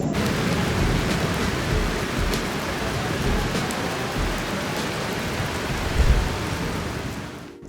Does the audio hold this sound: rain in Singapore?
yes